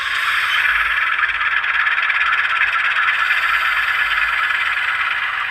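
Sound decoder in an Intermountain U18B model locomotive plays its brake effect, a steady bright hissing squeal that runs loud and continuous from start to finish with no talk.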